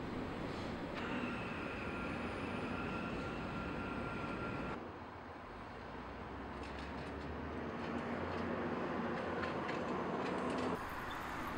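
A train rumbles steadily at the old train station in Seattle, a continuous loud mechanical roar with faint high whines and a brief dip midway, with no voices.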